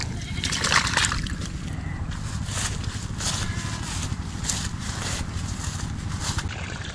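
Overflowing water pours steadily into a sinkhole on a farm, a continuous splashing and gushing close by with a low rushing undertone throughout.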